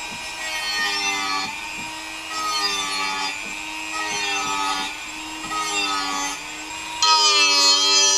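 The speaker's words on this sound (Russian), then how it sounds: "Нужно только зачистить острые кромки." Steel sprocket edges being deburred by hand with a file, a steady back-and-forth rasping in repeated strokes, close and fairly loud, with a brief harsher stretch at the end and no talking.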